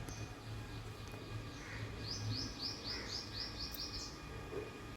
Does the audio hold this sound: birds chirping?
yes